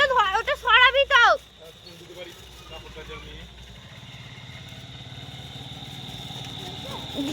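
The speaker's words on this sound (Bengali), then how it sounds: "দাঁড়া, বাইক আসছে।" Outdoors during the Kali Puja festival, a short burst of loud voice gives way to a motorcycle engine that hums low at first, then grows steadily louder as it approaches.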